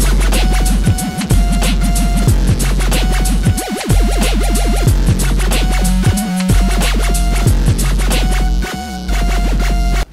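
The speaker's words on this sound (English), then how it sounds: "what you just heard was me looping with this Loopstation and simply a microphone" A beatboxed vocal loop built on a BOSS RC-505 Mk2 Loopstation with a single microphone, layering punchy kick-like thumps, scratchy percussive textures and sustained vocal tones into a dense, loud, continuous groove without speech.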